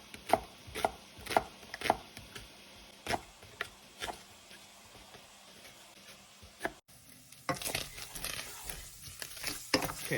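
Peppers being sliced for sausage pepper pasta give a series of crisp knife chops on a cutting board, spaced unevenly, fairly close and quiet, then quicker cutting toward the end.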